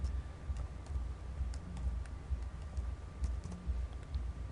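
Fingers tapping out a password on a computer keyboard, a soft, irregular run of light key clicks over a low steady room hum.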